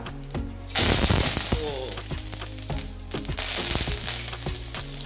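Cumin seeds and curry leaves hit hot oil with green chillies in a pan for an aloo sandwich filling, giving a bright crackling sizzle with sharp pops and spatters, close and fairly quiet, with no talking.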